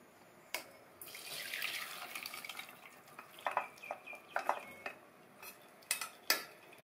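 Cooked drumsticks are strained at a kitchen sink, with water splashing through a strainer, a run of metal clinks and clatters from the vessels, and a few sharp knocks, all fairly close and quiet.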